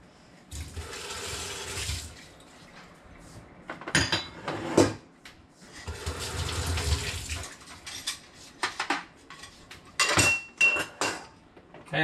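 Dishes and plates washed under a running tap, bursts of splashing water alternating with clinks and knocks of crockery, close and uneven, with short quiet gaps between.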